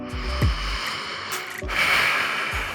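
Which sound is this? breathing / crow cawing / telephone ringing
breathing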